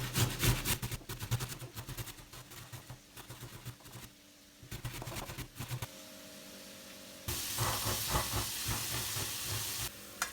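Minced meat with onions, then tomatoes, frying together in a pan, a steady sizzling hiss that rises and falls, turning into a louder, even frying roar toward the end, with clatter from stirring.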